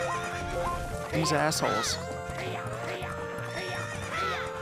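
Horses whinny and neigh in Majora's Mask 3D during a horse race on a track, several high wavering calls over game music while a player talks throughout.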